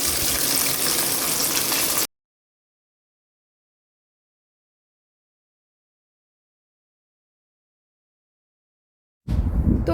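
Masala-marinated fish sizzles in a frying pan, a steady close hiss for two seconds, then silence before the sizzle briefly returns.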